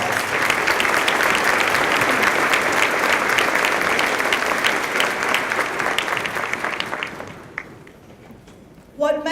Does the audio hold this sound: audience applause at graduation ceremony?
yes